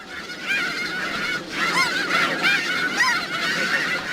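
A flock of snow geese honks repeatedly, many overlapping nasal calls rising and falling against a busy, noisy background.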